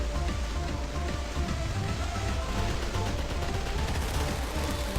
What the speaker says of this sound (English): the bullets are flying Yeah. everywhere